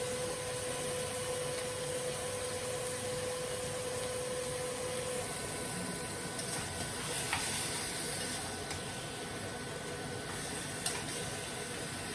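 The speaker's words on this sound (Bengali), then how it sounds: "এখন এই যে মাংসটি দিয়ে দেই মাংসটি একটু কষায় লই" Meat sizzles in a pan of spiced, fried turmeric and chili while being braised for a chicken pilau meal, a steady, even hiss with no talking.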